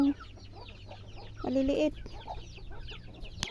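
Chickens cluck and peck at sliced chayote tossed to them, soft scattered bird calls with a brief louder squawk in the middle, while a person speaks briefly nearby.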